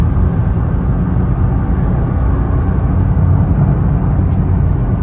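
Nissan GT-R driving, a steady engine drone and road rumble heard from inside the car, continuous and fairly loud with no talk.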